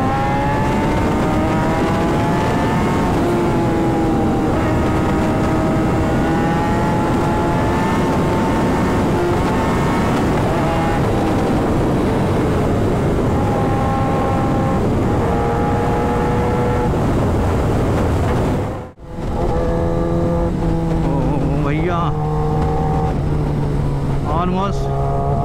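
A Kawasaki ZX10R sportbike engine drones loud and close while riding on an Indian road, its pitch rising and falling through gear changes, with a brief dropout near the end before the engine note resumes.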